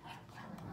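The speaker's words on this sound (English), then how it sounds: "The dogs are going crazy" Several dogs barking and whining indoors early in the morning, a short burst of excited, overlapping yelps heard faintly at a distance.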